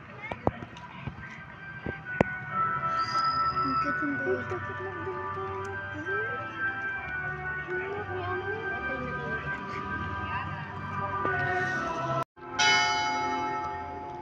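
A church bell rings during a Catholic Mass, heard under a continuous murmur of congregation and room noise, with bright tonal strikes standing out near the middle and a louder clang close to the end.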